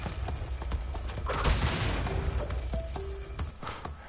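Burst of explosion and crash effects from the video game Crash Bandicoot, a dense noisy blast swelling near the middle among quick electronic game tones and pops, with no talk.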